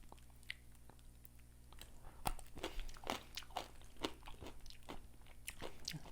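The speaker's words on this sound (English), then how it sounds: "So let me get out my last carrot in this package" A raw carrot stick is bitten and chewed at close range, giving a series of loud, crisp crunches that repeat irregularly over several seconds against a quiet background.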